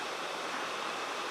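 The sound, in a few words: waterfall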